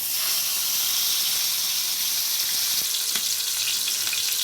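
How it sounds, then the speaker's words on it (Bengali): Chicken pieces fry one at a time in hot white oil in a small frying pan for street-style tawa fry chicken, giving a loud, steady, close sizzle that holds for the whole stretch with a few faint clinks and no talking. "রেখে দেওয়ার পরে এবার আমি সাদা তেলে চিকেনটা ফ্রাই করে নেব।"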